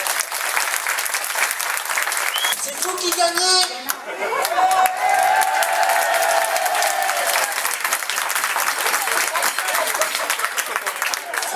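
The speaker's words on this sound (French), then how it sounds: "Vous allez applaudir très fort" A crowd at a tartiflette evening competition claps loudly and steadily throughout, with cheers and whoops rising in the middle, and a presenter briefly speaks over the applause.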